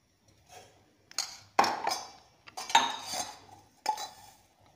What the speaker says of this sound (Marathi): तीन चमचे साखर टाकूया.